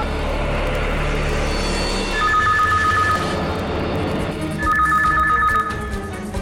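A telephone rings twice in regular double-trill bursts, clear and fairly close, over a low steady room rumble with no talking.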